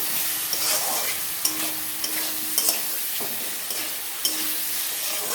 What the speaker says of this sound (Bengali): আমি দিয়ে দেবো একটু ম্যাগি মশলা দিয়ে একটু কষিয়ে নেব